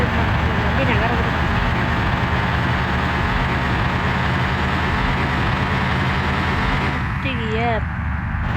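A bus engine idles and runs with a steady low rumble in the game Bus Simulator Indonesia, constant and close, with a brief whining tone near the end.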